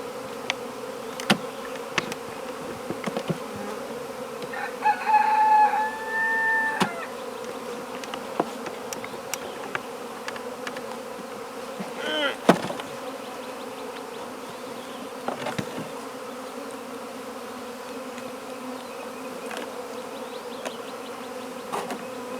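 Bees buzz around an open beehive, a dense continuous drone with individual insects whizzing close past now and then, and no voices.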